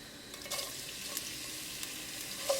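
Ginger and garlic sizzle steadily in hot olive oil with cumin seeds, broken by a few soft scraping stirs, close and fairly quiet with no voices.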